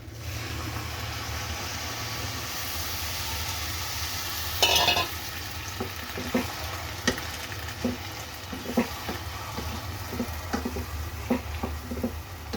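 Daliya cooking in a pan after a little water is added, a continuous soft sizzle and bubbling with a sharp hiss at the moment the water goes in, then light intermittent clinks of stirring.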